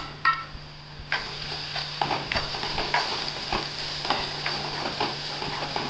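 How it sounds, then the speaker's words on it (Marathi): Spices with red-fried onion, chili powder and salt sizzle in a hot pan while being stirred for a Marathi sukat (dried fish) fry: a steady close crackle broken by sharp scraping taps of the spoon, with no voices. "मसाले चांगले परतून झाले"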